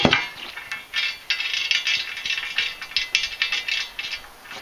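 Lock nut tightened onto a chisel plow tine bolt with a 14 mm ratchet wrench, a rapid run of close, crisp ratcheting clicks in uneven bursts.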